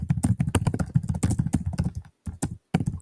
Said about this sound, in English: Oh, sorry about typing them out.